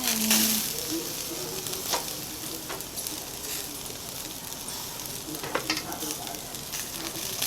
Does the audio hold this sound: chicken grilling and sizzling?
yes